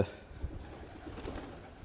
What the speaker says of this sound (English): we've still got us a family of pigeons living up in this section here